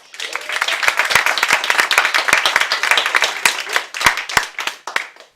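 Theatre audience applauding before a show, a dense wash of many hands clapping with sharp individual claps standing out, loud and steady for the whole stretch, with a faint voice underneath.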